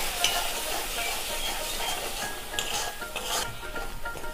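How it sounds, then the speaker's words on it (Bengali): Green chili and Kashmiri red chili powder sautéing in a pan for a mrigal fish curry, a continuous close sizzle with soft scraping and occasional clinks of a utensil against the pan. "কাশ্মীরি লাল লঙ্কার গুঁড়ো দিয়ে ভালো করে আমি কষে নেব"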